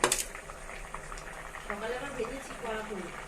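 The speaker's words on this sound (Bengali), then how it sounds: "এ দেখো আমাদের ঝোল একদম টক বগিয়ে ফুটে উঠেছে" Fish curry broth boils hard in a pot, with a steady dense bubbling and popping that runs the whole time at close range, a little louder after the first moment.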